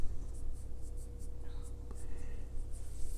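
A hand scratches steadily with a pen across paper, close and continuous for a few seconds under a low background hum.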